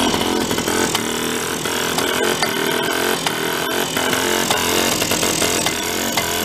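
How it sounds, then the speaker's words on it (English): A broken scooter engine runs loudly up close, a harsh, buzzing small-engine rattle that holds at a constant rough pitch while it idles without taking throttle, with no talk. "I'll let it run for a while, clear up some of the exhaust."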